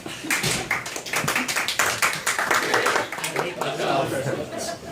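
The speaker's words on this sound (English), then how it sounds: "all deserve a round of applause, really" A small audience at a literary reading claps, scattered and uneven hand claps with a chuckle and talking mixed through them, fairly close.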